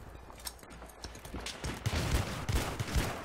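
Rapid pistol shots in Battlefield 3, a cluster of sharp cracks landing in quick succession over the second half, loud and close over a busy game background.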